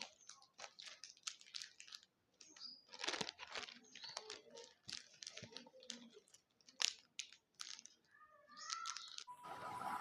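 Golden foil paper bought for wrapping chocolates crinkles and crackles close up in quick, irregular bursts as it is handled, with brief pauses between the rustles.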